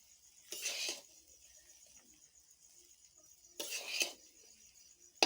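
Thick cooked rice stirred in a pot, two short scraping bursts about three seconds apart against a quiet background with faint insect chirping.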